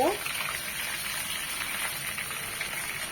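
Katla fish pieces frying in hot oil for doi katla; a steady close sizzle and hiss runs throughout at even loudness with no speech over it.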